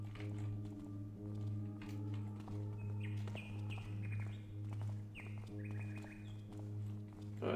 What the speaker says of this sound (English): Birds singing at this time of night?